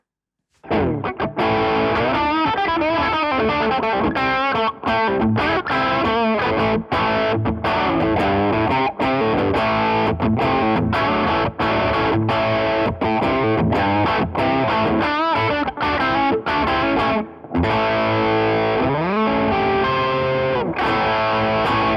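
Loud, saturated electric guitar through a Rajani Amps VOD-50 solid-state amp, gain at maximum, with heavy distortion, chords and riffs played continuously with a thick, compressed, driven tone and brief pauses.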